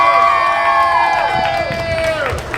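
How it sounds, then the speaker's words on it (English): At a peaceful demonstration in Paterson, a crowd cheers and whoops for young people, loud overlapping shouts and voices with some clapping underneath. "Let's give these wonderful young people a big rousing round of applause."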